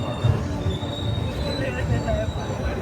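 The Guntur–Secunderabad train rolls through Secunderabad railway station, its wheels squealing over a low, uneven rumble of the railcars, close and continuous.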